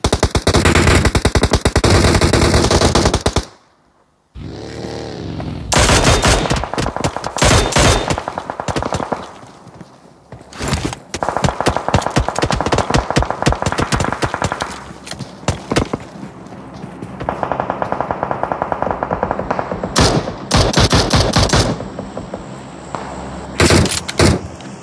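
Rapid automatic gunfire rattles through a battle royale squad fight in a video game match, long loud bursts broken by short pauses and a brief silence, with single sharper shots mixed in.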